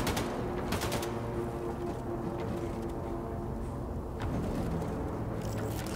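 Assault rifle fire in Wolfenstein II: The New Colossus, a dense, loud, continuous rattle of shots with a few sharper bursts standing out, heard without talk.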